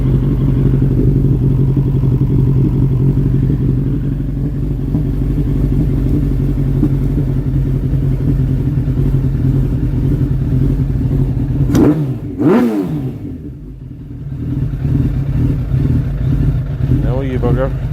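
A Suzuki Bandit 1200S MK1 motorcycle with an EBC uprated clutch runs nearby, a loud steady low engine drone that dips briefly and rises again with a rev near the end, with a voice speaking over it.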